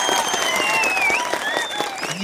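A dense crowd applauds steadily at a press meet at the chief minister's residence in Kodangal. Loud, continuous clapping runs the whole time, with scattered shrill whistles over it.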